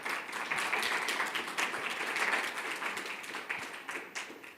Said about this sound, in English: applause for the first group.